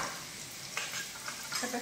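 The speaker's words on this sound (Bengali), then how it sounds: "আলুগুলো ঠিক এইভাবে ভাজা হয়ে গেছে। এবার আমি আলুগুলো তুলে নেব।" Small, round, lightly parboiled whole potatoes frying in oil, a soft steady sizzle with a few light stirring scrapes, close and fairly quiet, without talk.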